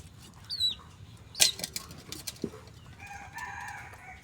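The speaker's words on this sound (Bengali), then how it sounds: "মুরগির বাচ্চা দিয়ে সারাদিন কাঁদতেছে, কিল কিল কিল কিল কিল" A motherless chick peeping and calling, with a few sharp, high cheeps and short chirping bursts over a quiet outdoor background.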